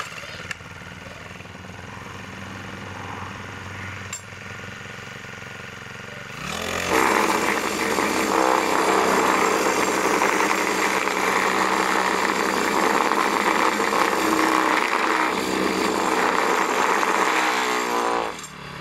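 The four-stroke petrol engine of a two-metre vibrating screed idles with a low steady rumble, then revs up into a loud, continuous vibrating roar that runs unbroken until the end.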